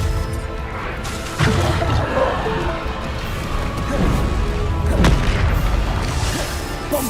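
Loud explosive booms and crashes from Bombarda spells in the Hogwarts Legacy video game, with sharp impacts near the start and around the five-second mark over a dense, continuous rumble of game combat.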